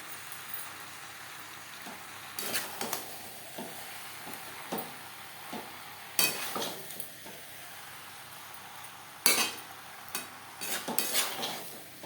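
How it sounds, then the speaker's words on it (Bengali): Spoon stirring potatoes, pointed gourd and prawns with spices in a pan, a soft sizzle throughout with scattered scraping and clinking strokes, a few louder knocks of utensil against pan. "মশলা ও মাছের সাথে আলু পটল বেশ ভালো করে মিক্সড করে দেবো"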